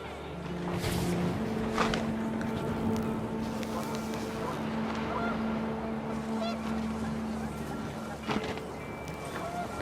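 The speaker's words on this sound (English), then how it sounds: "The wind picked up, and panicked geese appeared and quickly went." Panicked geese honk in the video game What Remains of Edith Finch, a fairly close scatter of calls over a steady windy, rumbling background with a low hum, lasting several seconds.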